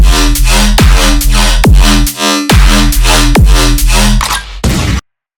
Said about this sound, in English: what you're hearing is the basses